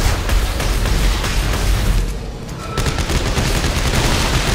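Sustained automatic gunfire in Dead Space 3 rattles out in rapid dense bursts, loud and close, with explosive thumps, briefly easing before the shooting resumes at full intensity.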